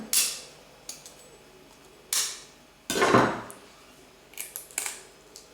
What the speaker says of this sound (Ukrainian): Відділяємо білки від жовтків, так як завжди.